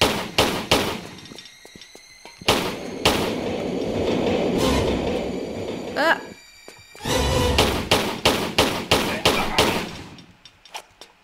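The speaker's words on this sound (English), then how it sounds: "I'm going to try really hard not to get smushed by this train." A train thunders through the Aldwych underground level of the Tomb Raider 3 video game, a loud roaring rush framed by heavy rhythmic clunks and thuds, close and dominant.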